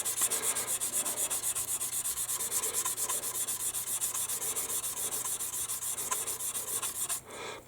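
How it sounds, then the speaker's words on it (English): Steady rhythmic sanding of a seam line on a 1/72 scale plastic model aircraft, a fine abrasive rubbing repeated in quick even strokes close up, continuing without talk until it stops near the end. "I'm just lightly sanding right where the seam line is"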